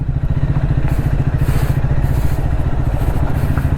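A motorbike rides a loose gravel mountain road near Kalimpong, its engine thrumming loud and close with a steady pulsing beat while gravel crunches and clatters beneath the tyres.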